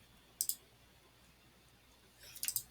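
Two quick mouse-click bursts, one early and one late, sound faintly and close by amid near silence while an OK button is clicked on a computer.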